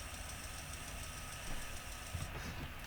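A car engine tuned with a Megasquirt MS2/MS3 controller idles with a low, steady, faintly knocking rumble, heard nearby with slight fluctuations and no speech.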